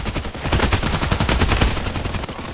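H&K UMP45 submachine gun firing in the shooter game Contract Wars: a continuous rapid automatic burst with deep, heavy, evenly spaced shots, loud and close, lasting nearly the whole stretch with no talking.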